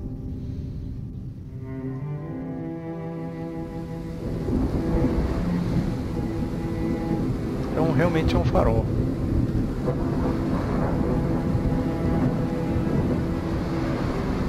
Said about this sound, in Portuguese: A baita tempestade.